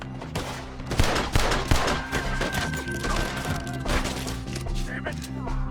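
Rapid gunfire in Red Dead Redemption 2, a dense, continuous run of overlapping shots and impacts near and far, with shouting voices mixed in throughout.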